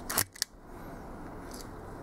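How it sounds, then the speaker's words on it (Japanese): A Leica M3 double-stroke rangefinder, overhauled, fires its cloth shutter at 1/1000 second: a sharp mechanical snap followed quickly by a second smaller click, close and crisp, then quiet room tone with no talking. "はい、じゃあここで高速シャッター1000分の1秒をチェックしていきます。"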